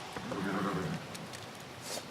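A horse in the video game The Witcher 3: Wild Hunt gives a clear whinny, with faint hoof clops and game sounds following at moderate volume.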